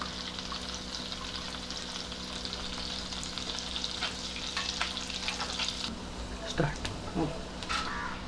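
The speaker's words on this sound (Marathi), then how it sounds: "बटर वितळत आहे आपल्याला पहिल्यांदा हे फ्लेक्स आहेत लसणाचे ते तळून घ्यायचे" Garlic flakes fry in melted butter in a pan with a dense, continuous crackling sizzle, close up, and a few louder stirring scrapes near the end.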